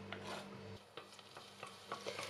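Garlic frying in cooking oil in a pot over high heat, a soft steady sizzle punctuated by several scraping stirs of a utensil against the pot, close and faint, with no talking.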